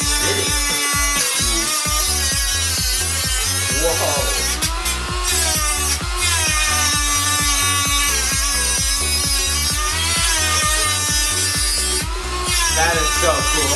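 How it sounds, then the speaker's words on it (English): A power grinder cuts rivets off a plasma generator, a loud continuous buzzing grind with a steady pulsing beat and a few brief scrapes, close and unbroken throughout. "So how do we remove rivets? And you have to grind them off."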